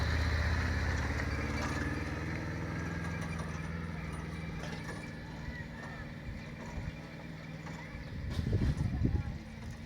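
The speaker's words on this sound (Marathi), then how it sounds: "बैल चाललाय मस्त" A bullock cart moves along a village road, its hooves giving faint clip-clop steps beneath a low engine hum, with a louder burst of rumbling near the end.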